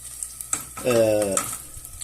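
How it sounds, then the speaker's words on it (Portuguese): Garlic frying in a pan, a brief close sizzle that swells for about half a second amid light stirring and pan clatter. "eu quero que o alho frite um pouco, como está-se aqui a ver. Ó. Está a fritar."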